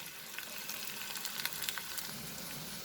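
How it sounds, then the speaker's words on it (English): Prawn masala sautés over a high flame in a pan, giving close, dense crackling and sizzling with light popping spatters throughout, and no voices. "Now I'll increase the flame and I will saute it for another 2 minutes over high flame"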